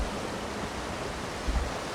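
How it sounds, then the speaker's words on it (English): A waterfall in the video game ESO gives off a faint, steady rushing hiss with a soft low thump near the end. "But I could follow the waterfall"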